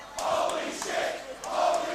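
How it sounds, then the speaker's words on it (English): A wrestling crowd reacts after a pile driver, with roaring cheers and shouts that swell and fade in waves at a distance. "I think the crowd's reacting for me."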